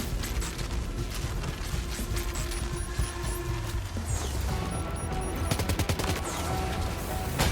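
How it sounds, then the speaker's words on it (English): Rapid bursts of assault rifle fire in the video game Death Stranding 2, loud and continuous over mechanical game sounds, with repeated volleys across the whole stretch and no one talking. "we're gonna switch to our assault rifle that we brought"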